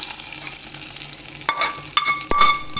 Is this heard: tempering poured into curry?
yes